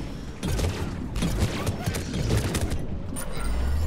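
Gunfire in Mass Effect 3 on Tuchanka, rapid shots crackling steadily amid battle noise and game sound, continuous throughout.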